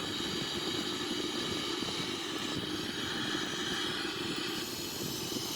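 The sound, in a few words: Boeing 777-300ER taking off, flight simulation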